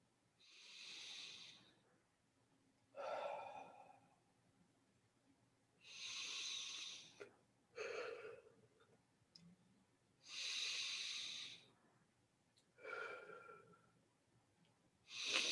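Slow, deep breathing during a yoga session, with long breaths alternating between airy, hissing inhales and exhales at a steady pace of about one every two seconds, close and alone, with a few soft snort-like edges.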